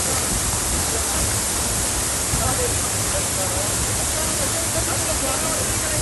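A tall waterfall at Pashto Karot in Budgam district, Kashmir, gives off a steady, dense roar of falling water that holds evenly throughout, with faint voices buried beneath it.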